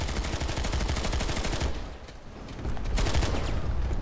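Rapid automatic gunfire in the video game PlanetSide 2, loud and almost continuous, dipping briefly in the middle before another burst, with no talking.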